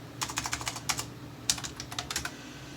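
Typing on a computer keyboard: quiet, close key clicks in two short flurries separated by a brief pause, over a low background hum, with no talking.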